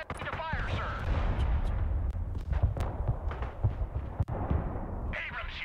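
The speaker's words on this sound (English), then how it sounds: "Artillery ready to fire, sir." Mobile artillery in the Broken Arrow war game fires in heavy, booming volleys over continuous rumbling battle noise, with sharp distant impacts scattered throughout and voices talking over the din.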